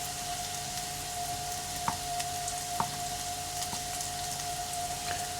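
Food sizzling in a frying pan in a home kitchen, a steady close hiss with a faint electrical hum underneath and a few sharp clicks of utensils against the pan.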